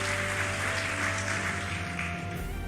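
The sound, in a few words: congregation applauding in church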